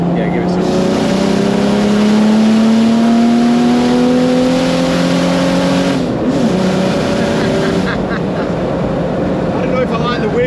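A 500bhp OM606 diesel swap in a Nissan Patrol revs hard and close, its engine note climbing steadily then dropping sharply before settling into a rumbling idle, loud from inside the cabin with people talking over it.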